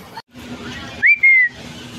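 A man whistles at a girl, a sharp rising two-part catcall whistle cutting above a noisy background.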